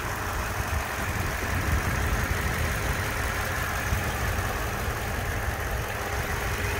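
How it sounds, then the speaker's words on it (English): A 2017 Toyota Tundra Limited's 5.7-liter V8 idles steadily nearby, a smooth low rumble holding an even level throughout with no voices. "So here's the engine."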